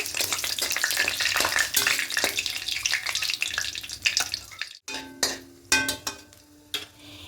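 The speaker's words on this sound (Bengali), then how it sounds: "এখানে কালো জিরে দেবো ফোড়নে তিনটে শুকনো লঙ্কা দেবো হালকা একটু নাড়াচাড়া করে ভেজে নেব" Nigella seeds and three dried red chillies crackle in hot oil in a pan, a busy sizzling spatter with spoon scrapes and clinks as they are stirred, close by, thinning out toward the end.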